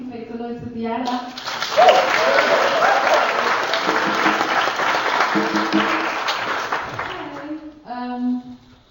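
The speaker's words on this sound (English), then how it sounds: "Please make some noise for Diana" Audience at a Bristol Recovery Orchestra community concert breaks into sustained applause and cheering that swells after a spoken introduction and fades into talk; the clapping sounds dense and close, and voices speak briefly at the start and end.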